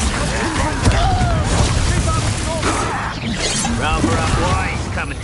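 A Glacius ice spell cast in Hogwarts Legacy lands amid busy battle noise, with booming, cracking impacts and shimmering swishes layered over continuous combat sounds for several seconds.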